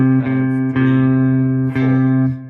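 Guitar plays a short rhythm exercise of eighth and quarter notes on a steady chord. Four strums are clearly spaced, close and clean, with no talking over them.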